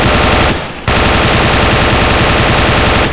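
Automatic weapon fire in ARMA 3, a loud, close and continuous stream of rapid shots with a brief break early on before the firing resumes unbroken.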